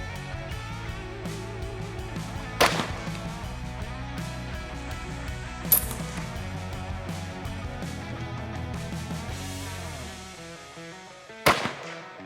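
A 6mm ARC AR15 rifle fires three sharp, loud shots spaced several seconds apart, each a sudden crack standing out over a steady tonal background.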